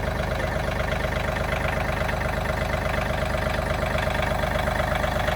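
A tractor engine idles steadily nearby as it warms up on a cool morning, a low, even rumble with a regular pulsing throb and no voices.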